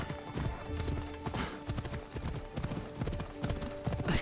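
Horse hooves clip-clopping at a steady gallop while riding in the video game Assassin's Creed Odyssey, a dense rhythmic pounding close by with some background game ambience.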